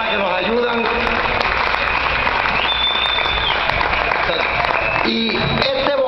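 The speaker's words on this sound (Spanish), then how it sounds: "pido un aplauso para la familia Cepeda y todas esas personas que nos ayudan" Applause for the Cepeda family at a tribute event honoring Mario Cepeda, a crowd clapping steadily throughout, with a person's voice talking over it.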